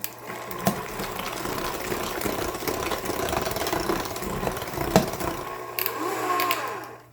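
An electric mixer beats dairy-free chocolate chip cookie dough. It makes a steady motor whir with a hum underneath, a few clunks against the bowl, and it stops near the end. No one talks.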